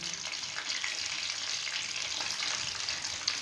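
Mini spring rolls fry in hot oil with a steady, quiet crackling sizzle that continues evenly throughout, with no one talking.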